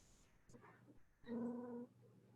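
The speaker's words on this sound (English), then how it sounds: "He's growling." A pet dog gives a short, close growling vocalisation with a harmonic, moaning tone, preceded by a few quieter grumbles and snuffles in a calm indoor setting.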